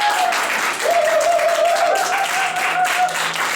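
A church congregation applauds and cheers for the Lord in steady, close clapping, with a sung or sustained voice tone running through it.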